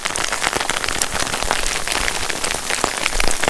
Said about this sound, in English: we're getting caught in a hailstorm here